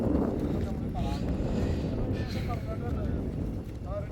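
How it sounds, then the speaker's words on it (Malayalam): Strong wind buffets the microphone on a rocky hilltop at Ananganmala, a steady loud roar that fills the whole clip, with people talking faintly underneath. "കാറ്റൊക്കെ ഉണ്ട്, സൂപ്പർ അല്ലേ"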